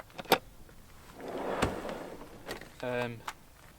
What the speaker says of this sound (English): Drawer pulls out all the way so you can gain access to the back.